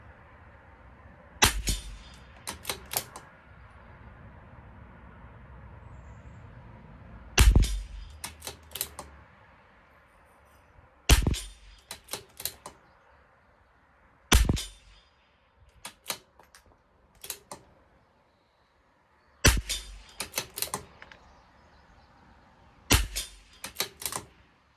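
A CZ 457 rimfire rifle fires Eley Tenex fouler shots at a 50-yard range, each crack sharp and close, spaced several seconds apart with quieter handling clicks between and no talking.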